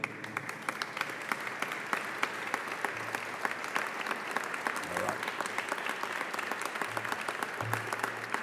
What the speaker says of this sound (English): We'll give you a nice round of applause here.